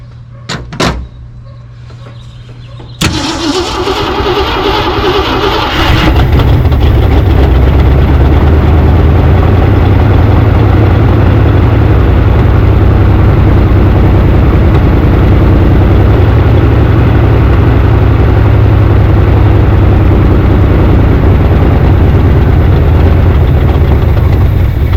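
A 1964 Ford Falcon Sprint engine cranks briefly, catches, and settles into a loud, steady idle with a deep, constant rumble that continues unbroken to the end.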